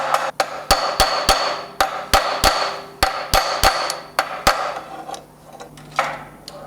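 A hammer planishes a forged medieval arrowhead on an anvil, a string of about fifteen sharp ringing metallic strikes in an uneven rhythm, close and loud, tapering into a few softer taps with no talking.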